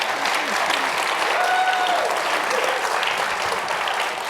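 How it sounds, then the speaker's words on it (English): Audience applause at a public debate event, loud, dense and continuous clapping that holds steady throughout. "I want you to give him a round of applause for that."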